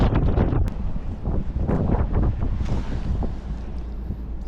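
Strong wind buffeting outdoors on a fishing outing, a steady loud rumble with gusty bursts throughout.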